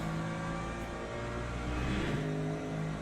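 An LMP2 prototype race car engine in Le Mans Ultimate drones loudly and continuously, its steady high revs swelling slightly as a rival car battles close alongside, with no talk over it.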